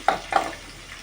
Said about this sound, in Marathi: लसूण थोडी तेलामध्ये भाजायला द्यायची आहे कांदा टाकूया